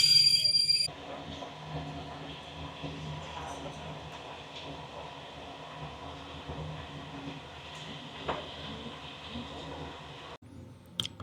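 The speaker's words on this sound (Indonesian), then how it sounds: "Ada kereta regional punyanya MAV." A Hungarian MÁV regional train rumbles steadily along the rails, a continuous low roll with occasional clicks and knocks, heard from nearby.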